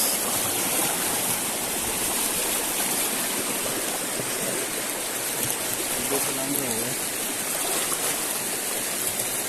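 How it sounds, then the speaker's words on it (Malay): Fast-flowing, murky jungle river in Aceh rushes in a steady, full roar of churning water, loud and close, with a brief voice murmuring underneath. "Air keruh, lumayan deras guys."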